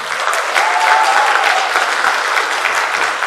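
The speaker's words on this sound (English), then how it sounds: "Can we have a round of applause for our sponsors?" Steady applause from a theater audience at a matinee of Macbeth, a dense wash of clapping that holds at an even level for a few seconds with no voices.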